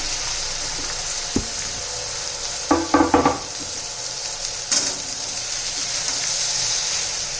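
Okra tossed into hot oil spiced with red chili powder, homemade masala, coriander powder and turmeric, giving a steady close sizzle with a few sharp scraping stirs near the middle, no voices.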